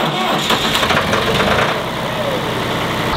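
A tractor engine starts and then settles into a loud, steady, knocking idle close by, with a voice faintly present under it.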